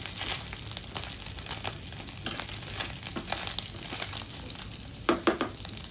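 Shingala fish fries in a pan with a steady, fairly loud sizzle, with a brief burst of sharper crackling near the end.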